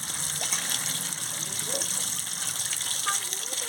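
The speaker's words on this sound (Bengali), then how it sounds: "আলু বেগুন কচু সব ভালো করে ধুয়ে নিচ্ছি" Potatoes, eggplant and taro being washed under running water, a continuous gushing stream with small splashes and trickles, close and fairly loud throughout.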